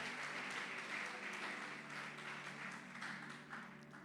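A church congregation applauds during a worship service, a steady wash of clapping that holds at moderate level throughout with a faint voice and low hum underneath.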